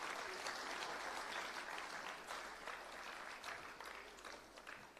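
A seated audience claps at a TiE Chandigarh talk with a Kargil war veteran, a dense, even wash of many hands applauding together that fades slightly toward the end, with no talking.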